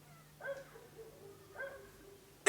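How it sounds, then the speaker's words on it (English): A dog barks twice at a distance, short spaced yaps under a low steady hum, followed by a sudden loud burst at the end. "Now we hear a dog."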